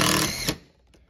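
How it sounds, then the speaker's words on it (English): A power tool driving a screw in a new laundromat, one loud close whir for about half a second that cuts off abruptly, followed by a faint click. "Sorry, screwing this in."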